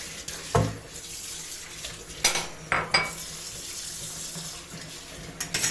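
Cold water running from a kitchen tap into a sink during home butter making, a steady soft wash broken by a few louder splashes and clinks of dishes, with no talk.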